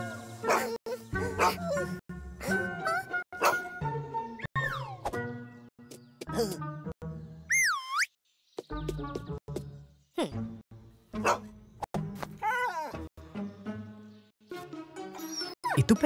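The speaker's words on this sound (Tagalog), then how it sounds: "Hinabol ng aso ang mga magkaibigan" An angry cartoon dog barks and yips repeatedly while chasing two friends on a beach in a children's animated pirate adventure, the barks mixed in with steady narration and music.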